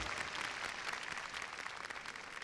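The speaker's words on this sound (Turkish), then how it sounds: "Ve şimdi İsa Mesih için hep birlikte çok büyük bir alkış sunalım." A church congregation claps together in worship, a continuous faint wash of many hands with no voices over it.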